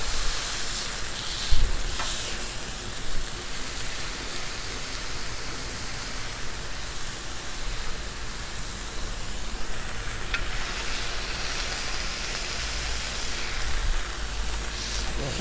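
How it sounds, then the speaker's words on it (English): Smashed burger patties sizzle on a hot griddle for a copycat Big Mac, a steady, broad frying hiss that holds evenly throughout, with a couple of faint knocks and no talking. "let's let them cook up for just a hot second"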